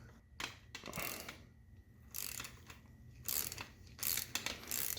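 A 6mm hex bit on an extension turns counterclockwise to loosen a fork bolt on an SR Suntour SR2015 mountain bike fork, giving repeated ratcheting clicks and metallic bursts at close range, with no talk.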